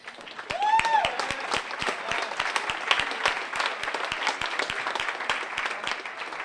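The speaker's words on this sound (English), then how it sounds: "Yes, you can applaud." Applause rises from a conference audience honoring a student food pantry initiative, a wash of many hands clapping at moderate distance with a few sharper individual claps and faint voices mixed in.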